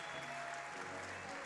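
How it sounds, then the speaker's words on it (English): An audience at a Super Smash Bros. Melee tournament losers quarter-final applauds, a short, steady burst of clapping and cheering heard at a distance. "Round of applause for Polish."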